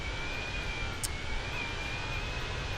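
Aircraft engines in Microsoft Flight Simulator holding a steady droning hum with a faint high whine, over the Namibian back country, continuous and fairly loud with no talking.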